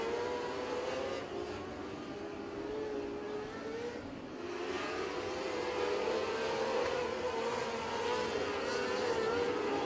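Race cars circling a high-banked oval track at a main event, engines droning steadily and rising in pitch as they pass, loud and continuous without commentary over it.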